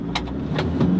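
A 2020 Mitsubishi Strada Athlete 4x4 pickup with a 2.4-litre 180-horsepower diesel engine pulls away from a slow roll, its engine note droning and building steadily with a few brief rattling bursts over the rumble.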